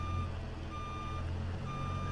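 A truck reversing alarm in American Truck Simulator, with a Ruda W900 and low boy trailer, beeping in a steady repeating rhythm over a low idling engine rumble.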